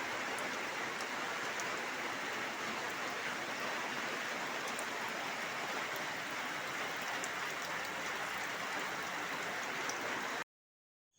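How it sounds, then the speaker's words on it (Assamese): Heavy rain falling in a steady, dense hiss that stays constant and fairly close for about ten seconds, with no talk, then cuts off abruptly. "এয়া বৰষুণ দিলে এতিয়া ডাঙৰকৈ, অথনিৰ পৰা বৰষুণ আহি আছিল"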